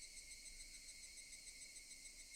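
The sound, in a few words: cicadas chirping in the Higurashi When They Cry video game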